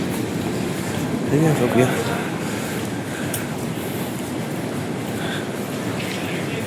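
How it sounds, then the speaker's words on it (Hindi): A train at the Jagdalpur railway station gives a steady, close rumble throughout while a person speaks over it. "देखो रेलवे स्टेशन पूरा दृश्य"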